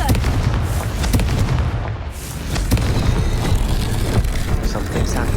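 A Confringo explosive fire spell cast in the Hogwarts Legacy video game sets off heavy booming blasts and rumbling explosions over a dense, continuous game soundscape.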